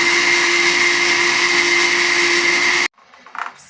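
A kitchen blender whirs loudly at a steady high pitch for several seconds, then cuts off abruptly, followed by a faint clatter.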